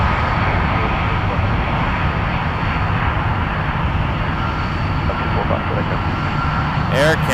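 Jet airliner engines roar at departure from Toronto Pearson Airport, a loud, continuous broadband rumble filling the whole stretch, with no clear talk over it.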